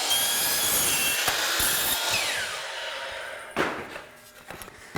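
A saw tilted to 45 degrees rips through a wooden shiplap strip with a loud, steady grinding buzz. The cut runs up close for about three and a half seconds, then breaks off into a few clattering knocks.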